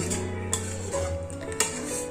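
Quiet scraping and clinking of a utensil against a pan while stirring chicken pepper fry in gravy, with a couple of sharper knocks over a low background hum.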